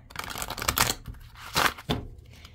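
Tarot cards being shuffled by hand, soft papery riffling bursts in uneven clusters, quiet and close, with no talk over them.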